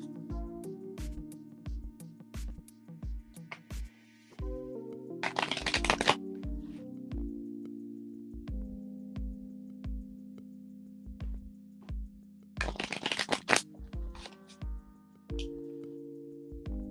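Tarot cards being shuffled during a love reading, with two loud riffling bursts standing out over a steady ticking beat and a soft harmonic drone, and no voices.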